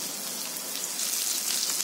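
About a cup of small shallots sautéing in a little hot oil, a dense, even crackle and hiss, close and steady throughout with no talk.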